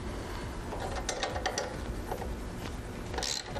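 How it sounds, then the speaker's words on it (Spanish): A socket ratchet wrench tightens a nut with washers on a motorcycle rack, giving a steady run of close, quick ratcheting clicks with a few sharper metallic taps. "Y la tuerca con sus arandelas también. Con dado y con llave de 13."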